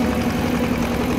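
A small 18 hp four-wheel-drive tractor engine runs steadily at close range, a continuous low idling drone with a hum and faint vibration throughout, no voices present.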